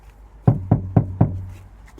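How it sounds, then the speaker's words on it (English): Four sharp knocks on a house door in a quick, evenly spaced run, close and fairly loud, with a short resonant ring after each blow and quiet surroundings. "Let's give Bradley a knock."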